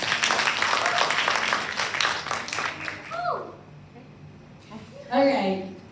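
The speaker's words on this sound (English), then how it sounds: "Can we give Ibu Nicole a round of applause?" An audience claps in a classroom as a burst of dense, rapid clapping that fades after about three seconds, followed by a few spoken words and a short voice near the end.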